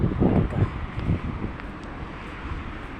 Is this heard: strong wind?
yes